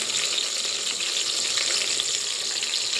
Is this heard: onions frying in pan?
yes